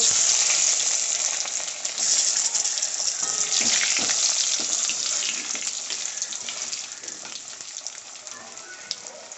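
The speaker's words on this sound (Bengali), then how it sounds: "এবার আমি টুকরো করে রাখা আলুগুলো ভেজে নেব" Cut potato pieces fry in hot oil while cooking a Bengali rui fish dish, making a bright, continuous loud sizzle close by that fades slightly over time, with scattered faint knocks.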